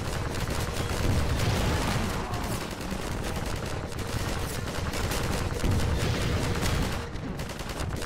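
Rapid gunfire in Half-Life 2 combat, dense bursts of shots and impacts crackling continuously at high volume with brief lulls, layered and chaotic throughout.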